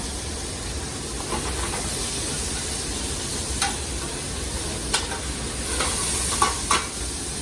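Meat browning in a pan for cassoulet gives a continuous loud sizzle with scattered pops and stirring scrapes, close up and without talk.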